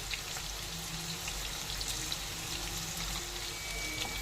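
Dry red chili, bay leaf and white cumin sputter in hot oil, a dense continuous crackling sizzle that stays close and even, with no talking.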